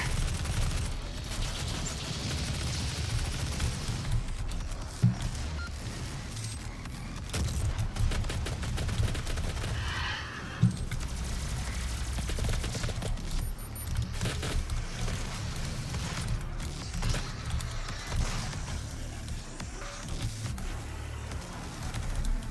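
Gunfire in the video game Doom SnapMap, a loud, continuous barrage of rapid weapon shots and explosions with a couple of sharper standout blasts, filling the whole stretch without speech.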